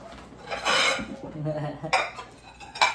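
Plates clink and scrape as they are handled nearby, with a few ringing knocks and rattles of dishes in a short, uneven sequence.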